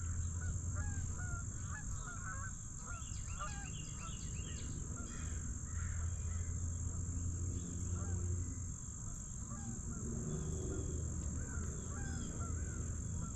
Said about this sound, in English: There's some geese flying in.